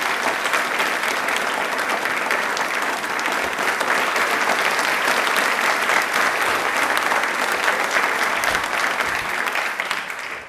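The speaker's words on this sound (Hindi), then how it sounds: "तो हम लोगों के लिए जोरदार तालियां बनती हैं एक बार." Loud, continuous applause from a studio audience during a televised quiz show about Indian Railways, a thick wash of clapping that holds steady and tapers slightly at the end.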